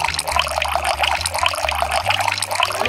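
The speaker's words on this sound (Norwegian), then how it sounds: "Sett vasen eller det runde glasset rett foran pilene og hell opp i vann" Water poured into a round glass vase set on a kitchen counter, a steady close splashing and trickling flow running without pause, with no talking.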